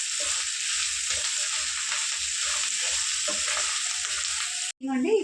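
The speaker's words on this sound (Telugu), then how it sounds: "పచ్చిమిరపకాయలు బాగుంటాయి వేగి." Green chillies fry in a pan for boti fry, a loud, steady crackling sizzle of hot oil with soft stirring knocks underneath, ending in a brief clatter.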